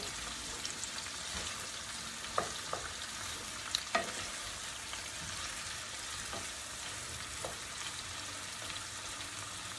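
Onions frying in a pan at home, a steady loud sizzle throughout with a few sharp scrapes and clinks from stirring, no talking.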